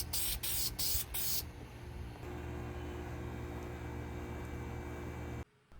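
Spray gun applying clear coat to Toyota 4Runner 4th Gen parts: several short hissing bursts, then one long steady spray hiss that stops abruptly at the end.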